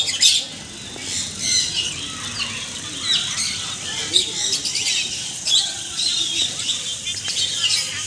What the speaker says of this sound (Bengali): এই যে টিয়া পাখি